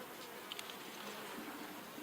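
Honey bees drone continuously in a hive opened for inspection, a soft steady swarm buzz with a couple of faint clicks near the start.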